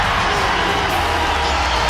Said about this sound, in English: Crowd on their feet here.